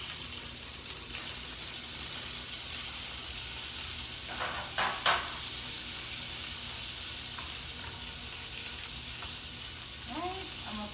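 Butter sizzles gently in a pan, a soft steady crackle with a few louder spits and pops midway and faint voices in the background toward the end.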